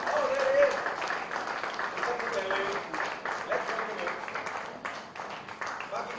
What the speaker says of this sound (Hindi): तालियां सुन लो।